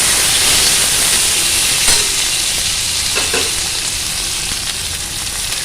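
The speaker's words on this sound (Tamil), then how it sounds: "பச்சை மிளகாய் ஒரு 4, கருவேப்பிலை எல்லாம் போட்டு நல்லா வதக்கிக்கலாம்." Onions, green chillies and curry leaves sauté in a hot pan, giving a steady, loud sizzle and crackle throughout with brief stirring scrapes and no talk.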